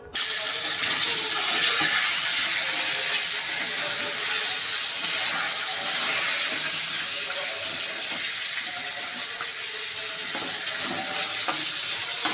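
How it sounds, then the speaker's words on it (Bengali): Katla fish heads frying in oil in a wok give a loud, steady, dense sizzle and hiss that runs unbroken throughout, with faint clatter beneath and no talking. "মাছের মাথাগুলো ভেজে নেব।"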